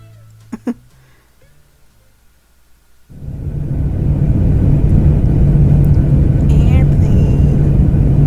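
After a quiet start with a couple of brief clicks, a video game plane engine from Hearts & Hexes swells into a loud, steady droning roar that carries on to the end.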